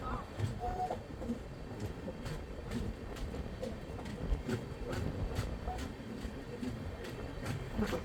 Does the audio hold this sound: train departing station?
yes